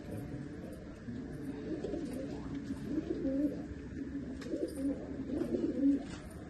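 Murichundan pigeons coo softly and continuously in low, rolling murmurs, faint and slightly distant, with a voice or two in the background.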